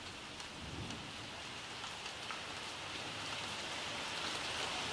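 Rain pours down steadily during a thunderstorm in Pune, a dense even hiss of falling water with distant rumbling underneath, no voices present.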